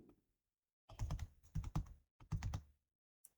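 Bursts of rapid keystrokes on a computer keyboard during a word-processing task, three clustered runs of clicky typing with short pauses between, plus a lone key tap at the end.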